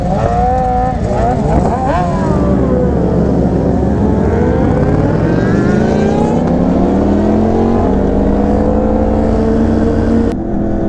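A Honda Fireblade sport motorcycle accelerates hard on the street, its engine note climbing through rising sweeps with shifts between them, loud and close throughout.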